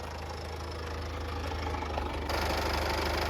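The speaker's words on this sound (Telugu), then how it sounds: "ఇంజన్ సౌండ్ అయితే ఈ విధంగా ఉంది" A Honda Jazz car engine idles steadily with the bonnet open, a low, even hum and faint knocking, growing slightly louder near the end; no voices.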